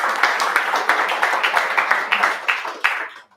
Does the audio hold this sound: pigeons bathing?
no